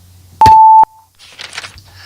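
A single loud electronic timer beep sounds at the start of a short grammar lesson, a steady tone lasting under half a second, followed by faint rustling and a quieter noise burst.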